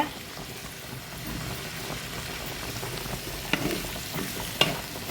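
Onion, beans, carrot and green chilli with curry leaves being stirred together in a hot pan, a steady close sizzle with scraping stirs and a couple of sharp clinks near the end.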